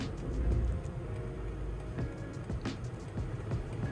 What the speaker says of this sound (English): And then as you can see, the vehicle is going to park right now.